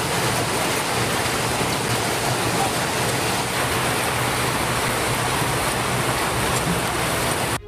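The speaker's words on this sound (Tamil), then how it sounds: "இரவு 8 மணிக்கு மேல் சுமார் 3 மணி நேரம் கனமழை வெளுத்து வாங்கியது" Heavy monsoon rain pours down at night in Tamil Nadu, a loud, dense, continuous roar of water with no pauses or voices.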